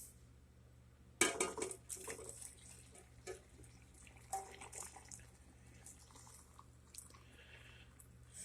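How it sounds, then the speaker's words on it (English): Hot pickling brine poured into a glass jar of watermelon rinds in a kitchen, a sudden close splash followed by trickling and small clinks of glass, fading into quieter drips against a faint steady hum. "just pour it in the jar with the rinds"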